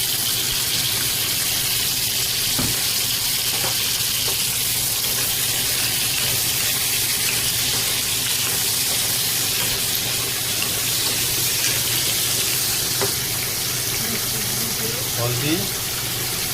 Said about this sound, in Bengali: তেল গরম হয়ে গেছে, আলু দিচ্ছি ভাজার জন্য।